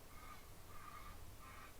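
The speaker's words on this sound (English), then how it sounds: "there's like really weird squawking geese sound coming from the sky" Geese squawking overhead in the night sky, a few repeated honking calls at a moderate distance over a steady background hum.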